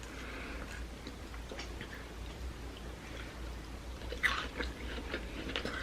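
Fried battered fish from a fish and chips takeaway crunches under chewing, with soft irregular bites over a steady low background, close and fairly quiet.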